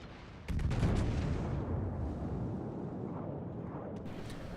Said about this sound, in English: I am going to try and fire at this turret.